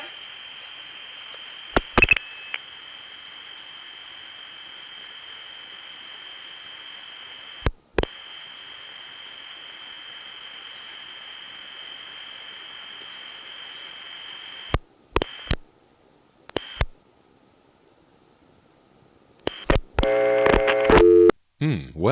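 A long steady telephone line tone from a Lorton coin phone in the Occoquan switch area hums on, broken by clicks and short bursts, ending in a quick string of MF dialing tones.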